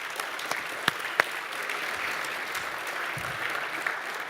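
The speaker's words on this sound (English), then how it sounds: "now you can clap" A live audience claps steadily throughout an evening conversation event, a dense moderate wash of applause with a couple of sharper individual claps standing out early on.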